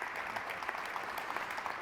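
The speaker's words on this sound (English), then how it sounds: "An applause, please." Audience applause at an opening ceremony in Lisbon, a steady dense patter of many hands clapping throughout, moderately loud and even with no voices over it.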